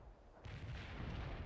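A heavy artillery barrage in the video game World in Conflict: a sudden loud rumbling wash of shellfire that swells after a brief quiet start and rolls on continuously, dense and booming.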